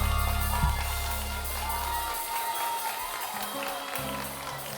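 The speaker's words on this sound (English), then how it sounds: "Round of applause. Congratulations." Applause and cheering at a college graduation ceremony as an award is given, a sustained crowd clapping in a large room with scattered whoops, fairly loud and continuous.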